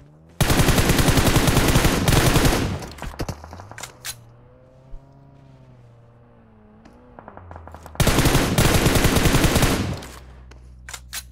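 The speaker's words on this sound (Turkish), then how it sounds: "Sol bölgeye doğru bir mermi yollayacak en iyi zamanda" Automatic gunfire from the PUBG Mobile battle-royale shooter: two long, loud, rapid bursts, the first at the start and the second near the end, separated by a quieter stretch of faint tonal game sound.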